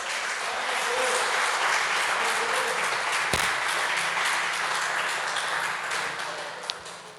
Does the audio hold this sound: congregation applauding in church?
yes